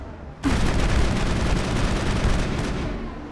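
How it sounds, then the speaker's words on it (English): Loud, dense battle din from the Mass Effect video game, a sustained wall of rocket blasts and rapid gunfire that starts abruptly and rumbles on without pause. "They've got rockets."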